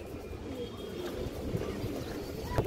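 Soft, low cooing of a domestic pigeon, a steady murmuring purr close by and fairly quiet, with faint background noise and a few small clicks.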